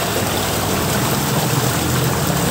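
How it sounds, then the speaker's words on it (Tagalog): Strong water current rushing through a canal, a loud steady broadband roar with no pauses and no voices. "Lakas pa rin ang pressure ng agos ng tubig dito."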